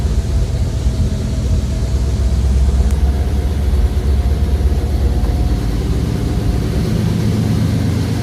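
Old car engine idling low after a fuel delivery problem was worked on, a steady deep rumble close by with an even, unbroken throb and no voices.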